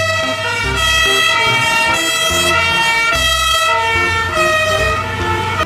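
Toy fire truck siren wailing loudly and continuously in a steady electronic pattern with rhythmic tone changes, playing alone without talk.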